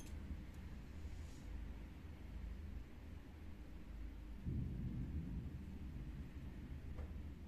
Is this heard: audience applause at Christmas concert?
no